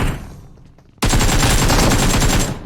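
Rapid gunfire from a video game erupts abruptly after a quieter second, then continues as a loud, dense, sustained automatic burst with no talk over it.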